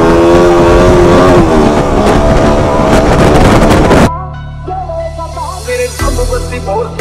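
A KTM motorcycle revving hard while doing a wheelie, a loud strained engine whine that drops abruptly into lower, rougher revving with wind noise and some voice in the background.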